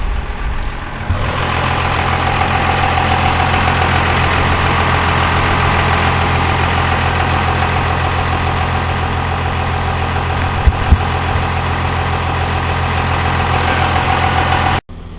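An old Cummins diesel truck engine with a turbo drones steadily while towing, a loud, continuous low rumble heard close up and alone for the whole stretch.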